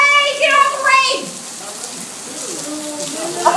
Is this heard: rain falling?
yes